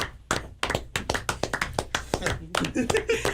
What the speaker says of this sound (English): This clapping is anemic.